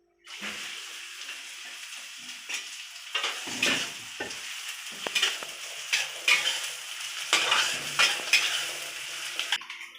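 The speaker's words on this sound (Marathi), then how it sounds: "परत कांदा परतायला टाकते." Onion sautés in a pan for a prawn curry, giving a continuous close sizzle broken by repeated stirring scrapes and rustles that grow busier toward the end.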